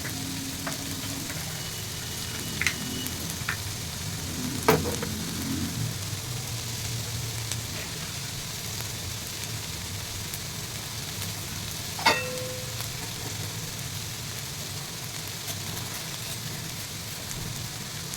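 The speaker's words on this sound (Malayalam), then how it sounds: "ടൊമാറ്റോ പച്ചമുളക് ഇഞ്ചി വെളുത്തുള്ളി ഇതും കൂടി ഇട്ടൊന്ന് വഴറ്റാം" Tomato, green chilli, ginger and garlic sautéing in a pan for egg curry, a steady close sizzle and fry with a few sharp clicks and scrapes of stirring.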